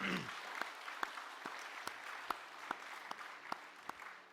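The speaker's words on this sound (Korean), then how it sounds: "우리 윤재구 집사님께 힘차게 격려하는 박수 한번 해드리겠습니다" A church congregation at a Sunday daytime service at Gwangju Hanbit Holiness Church gives quiet, distant applause, a soft wash of clapping marked by evenly spaced, sharper claps keeping a steady beat.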